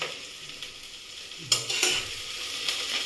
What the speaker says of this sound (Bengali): একটু নাড়ো টমেটোটা।